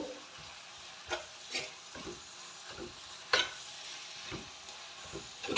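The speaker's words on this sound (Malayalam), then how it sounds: "ഇതിലേക്ക് നമ്മൾ പേസ്റ്റ് ആക്കി വെച്ച വെളുത്തുള്ളി ഇഞ്ചി കൂടെ ഇട്ടു പച്ചമുളകും ഇതിൽ ചേർത്തിട്ടുണ്ട്" Garlic-ginger paste and green chillies frying in a pan for a beef curry, with a steady soft sizzle broken by repeated sharp scrapes and stirring clatters of a spoon, close and moderately loud, no voices.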